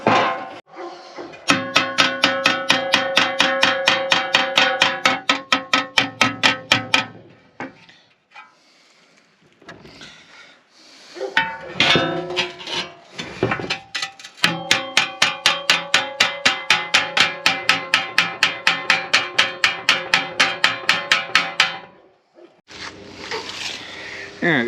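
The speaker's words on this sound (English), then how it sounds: "I'm gonna take a hammer and dolly and beat it out" A hammer and dolly beat a dent out of a car's transmission pan, producing loud, close metallic blows in long rapid rhythmic bursts, separated by pauses where a voice briefly speaks.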